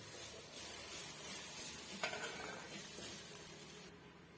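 Semolina (rava) dry-roasting in a pan, a soft continuous rustling sizzle with occasional scrapes and taps of the stirring spoon, close and fairly quiet.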